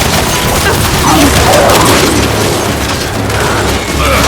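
Intense video game battle in Gears 5, with turret gunfire and explosions forming a loud, continuous barrage of booms and bursts that fills the whole stretch.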